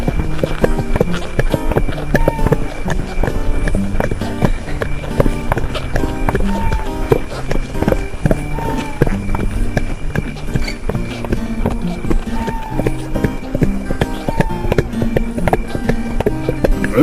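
Horses trotting steadily, their hoofbeats a continuous, rhythmic clip-clop, close and loud, with a sustained tonal music-like bed running underneath.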